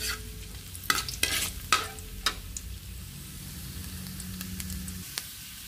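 Ginger sautéing in a hot pan gives a steady, close sizzle. Several sharp stirring scrapes come near the start and a few lighter clicks follow.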